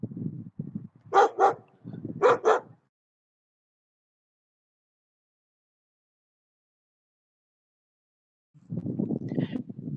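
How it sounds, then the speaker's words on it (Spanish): Small dogs bark near an outdoor speaker in two short bursts of barking, close and fairly loud, followed by a long silence before a low voice begins talking. "una disculpa porque hay estos perritos se me acercan mucho"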